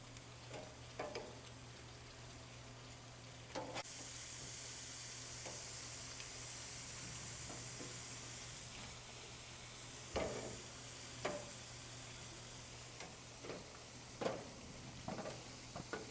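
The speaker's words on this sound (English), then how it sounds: "I'm just going to let them sizzle for a minute." Meat sizzles in a pan over low heat, a quiet, continuous crackle and hiss with occasional soft clicks and stirring taps, alone and close.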